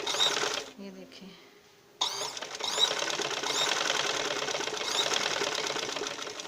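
A sewing machine runs steadily while stitching a seam in a shalwar, with a short pause before restarting and running on continuously; a voice talks over parts of it.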